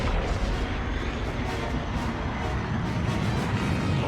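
Blaster gunfire during a Star Wars Outlaws fight, a dense continuous barrage of rapid booming shots with rumbling low-end and no pause across the whole stretch.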